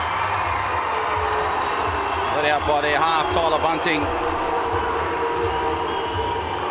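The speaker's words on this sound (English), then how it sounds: "Parochial crowd, you can imagine we're not too far from Penrith." Stadium crowd at a rugby league grand final roars and cheers as the Penrith Panthers run out, a broad sustained swell under an announcer's voice, with whistles rising near the middle.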